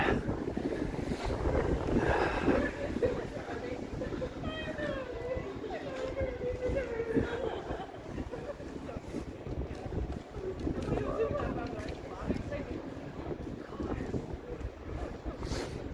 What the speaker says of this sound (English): the wind. It's bad here.